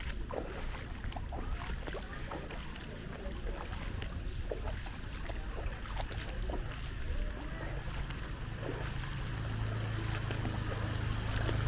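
A motorbike rides slowly through typhoon floodwater in Siem Reap, Cambodia, giving a low, constant engine drone mixed with splashing and sloshing water, with the engine note building slightly toward the end.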